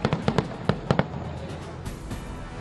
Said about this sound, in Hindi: टीम इंडिया की जीत के बाद स्टेडियम में हुई जोरदार आतिशबाजी।